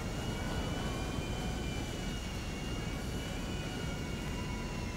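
A jet aircraft engine in the video game GTA V Online roars as a continuous, steady whine and rush, loud and unbroken with no voices over it.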